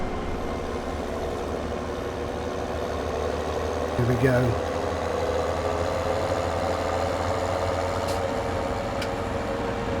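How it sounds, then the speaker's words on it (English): Tractor engine idling in Farm Simulator 17, a low steady rumble held close throughout, with a brief spoken phrase over it midway and a couple of faint clicks later. "Maybe I can take the tractor along the train line so you can see how fantastic that is."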